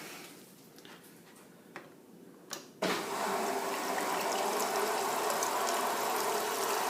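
Water pours steadily from the dispenser of a RangeMaster American style fridge freezer into a cup, a constant close rushing stream that starts abruptly after a few faint clicks and runs unbroken to the end.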